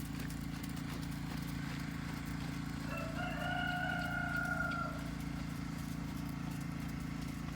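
Horse hooves on a riding arena circle during a dressage-style lesson, a steady background rhythm under a constant low hum, with a rooster crowing briefly in the middle.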